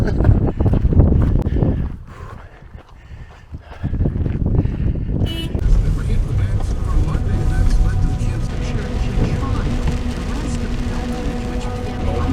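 Strong, cold, wet wind at Upper Kananaskis Lake roars and buffets the microphone, easing briefly before surging back into a steady, heavy rumble, with an indistinct voice underneath.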